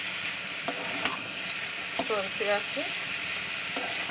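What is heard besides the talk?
snake gourd frying in a pan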